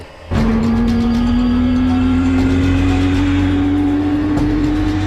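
A Victor jet bomber's engine starts abruptly and settles into a loud, steady roar with a whine that slowly climbs in pitch.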